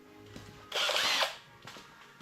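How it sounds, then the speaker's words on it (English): A power drill whirs in one loud burst of about half a second while priming the oil pump on a 1972 AMC Javelin engine, then drops away to quiet garage room sound with a faint later pulse. "Now I'll get my drill out and we'll start the fun."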